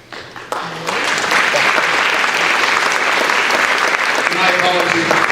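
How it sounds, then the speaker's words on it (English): Sustained audience applause at a high school National Honor Society recognition ceremony, rising quickly after a brief announcement voice and continuing as a dense, loud wash of clapping from a large crowd. "you probably should wait to hold the applause till we're all done"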